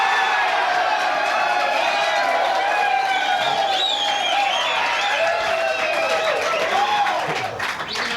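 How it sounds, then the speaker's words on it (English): A large crowd of about 12,000 people applauding and cheering at an evening event, a dense roar of clapping with whoops and voices layered over it, loud and sustained before easing slightly at the end. "we got a great crowd tonight"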